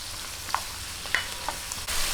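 Tomatoes sautéing in a pan for Filipino chicken guisantes, a steady soft sizzle with a few light stirring clicks, close and fairly quiet.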